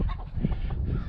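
Chickens and a rooster in a farm chicken pasture, a continuous nearby chorus of honking, clucking fowl calls, fairly loud with no talk.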